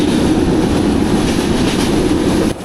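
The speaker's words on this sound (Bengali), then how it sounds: "উল্লেখ্য, এটি একটি ব্রডগেজ ট্রেন।" A broad gauge passenger train runs steadily at good speed on Indian-built INKA coaches, a loud continuous rumble and rush of wheels and air that drops off abruptly near the end.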